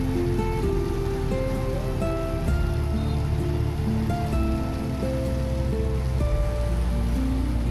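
Steady rain hiss over a dense wash of rush-hour traffic at Lam Vien Square roundabout in Da Lat, with engine hum and tonal background noise continuing throughout.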